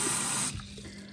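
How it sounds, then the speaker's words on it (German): A dental retainer rinsed under a running tap, a steady loud gush of water that cuts off about halfway, leaving a quieter trickle and faint handling sounds. "Ich spüle es noch mal ein bisschen aus."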